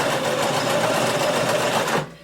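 A sewing machine backstitches through skirt fabric in a continuous rapid whir, then stops abruptly near the end. It is close and loud.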